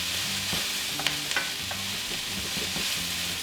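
Onions for pork fried rice fry in a pan with a loud, dense, continuous sizzle, close up and heard alone, with a few light clinks of stirring.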